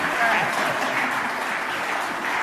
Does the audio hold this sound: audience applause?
yes